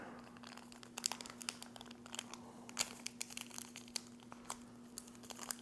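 Yeast packet being torn open by hand without scissors, heard as close, quiet crinkling and tearing of packaging in irregular bursts over a steady low hum.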